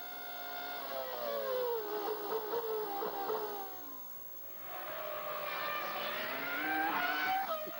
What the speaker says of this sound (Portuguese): Dá uma andada aí com o Villeneuve na BAR com motor Honda.